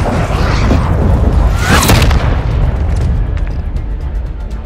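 Call of Duty: Modern Warfare III cruise missile strike lands as a loud, close explosion: a sharp burst that swells into a heavy rumbling roar over dense battle noise, then slowly decays into a lingering low rumble.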